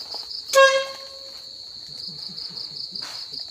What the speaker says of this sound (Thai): เดี๋ยวตอนนี้เราจะฟังเสียงจิ้งหรีดกันนะครับ